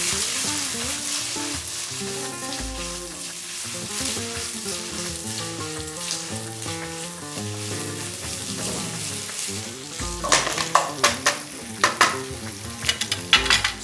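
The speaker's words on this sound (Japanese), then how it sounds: "この切ったベーコン、これをフライパンに。 いい音だね。" Cut bacon sizzling and crackling in a frying pan, a steady close frying hiss under background music, with sharper popping spatters toward the end.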